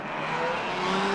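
Formula 1 race cars of 1957 surging off the start at the German Grand Prix, Ferraris and Maseratis roaring together in a loud, sustained, rising engine blare.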